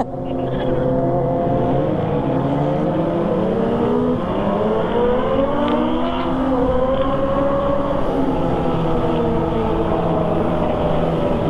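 A motorcycle engine revs loudly and continuously, its pitch climbing and falling in repeated sweeps, heard during a Sunday-morning group ride to a wedding reception, with no one talking.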